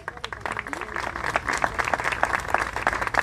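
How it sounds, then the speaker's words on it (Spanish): Steady applause from a sizable crowd at an award ceremony, dense clapping that fills the room throughout without any break. "Fuerte el aplauso."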